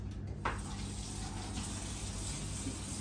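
Food being washed under a running kitchen tap while sinigang is prepared, with a steady close splashing water stream and a brief knock near the start.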